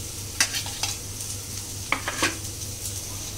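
Fried potatoes with yogurt and Kashmiri red chili being stirred in a pan, with a soft steady sizzle and a few sharp scraping strokes of the spoon, close and alone.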